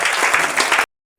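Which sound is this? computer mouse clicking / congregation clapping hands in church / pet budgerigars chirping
congregation clapping hands in church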